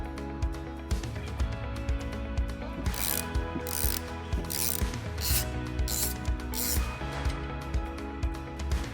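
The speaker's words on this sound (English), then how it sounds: "Loosen the nuts and take them off." A ratchet wrench loosening the wiper arm nuts on a Fiat Ducato 2.2 MultiJet van, with rapid, regular clicking pawl strokes in close repeated bursts, loud and alone without talk.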